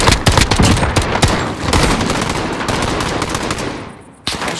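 Dense, loud automatic gunfire in Call of Duty Warzone, rapid overlapping shots in a sustained fusillade that fades briefly before one more sharp report, with no speech.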